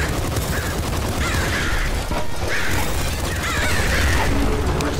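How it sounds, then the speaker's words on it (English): Explosions in the video game Nuclear Throne: continuous loud, crunchy blasts and crashes pile up into a dense, chaotic barrage with no gaps. "Many explosions."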